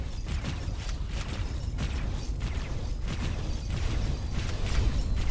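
Enemy ship weapon fire and explosions in the space game X4 Foundations, a rhythm of repeated bursts over a dense, rumbling low background, moderately loud and without speech.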